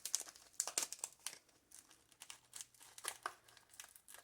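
Gold gift ribbon crinkles and rustles in close handling as the taped end is sought, with soft irregular crumpling bursts and light crackles filling the short stretch.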